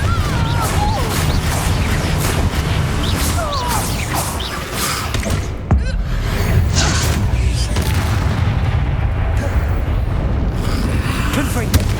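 Confringo fire spell explosions in the game Hogwarts Legacy, repeated booms and crackling blasts over dense battle noise, with one sharp hit midway and chanting-like voices early on.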